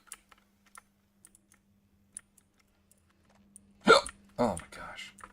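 A person hiccups twice in quick succession, loud and close, after several seconds of light, scattered computer keyboard typing and clicks at a desk.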